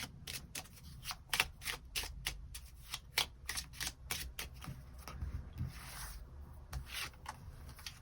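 Tarot cards shuffled by hand, a rapid series of crisp riffling flicks and soft slides up close, quiet and rhythmic, followed by cards being rubbed and drawn, with no talk.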